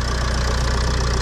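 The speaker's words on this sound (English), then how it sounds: "I'm intrigued what you think to the sound of the engine." A 15-year-old car's engine idles close up and loud, a steady low rumble with a fast even ticking pulse.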